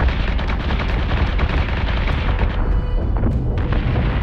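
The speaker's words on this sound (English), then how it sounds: "that looked like a cascading explosion in there" Missile explosions in the Battlestar Galactica space combat game roar in a loud, dense, continuous barrage of overlapping booms and blasts with no letup.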